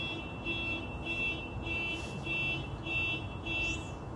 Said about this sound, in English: Calming car alarm.